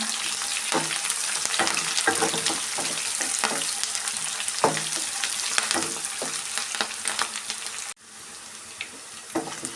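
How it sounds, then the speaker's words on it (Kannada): Curry leaves sizzling and frying in hot oil in a pan for tomato gojju, a steady crackling sizzle punctuated by stirring clinks throughout, close and clear with no talk. "ಈಗ ಸ್ವಲ್ಪ ಕರಿಬೇವು ಸೇರಿಸ್ಕೊತಾ ಇದ್ದೀನಿ ಎಲ್ಲ ಸೇರಿಸಿ ಚೆನ್ನಾಗಿ ಫ್ರೈ ಮಾಡ್ಕೊಳ್ಳೋಣ"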